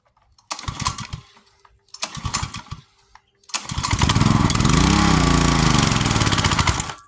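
Small pressure washer engine sputtering briefly twice, then catching and running loudly and steadily near by, its low throbbing drone with a slight pitch swell, no talk over it.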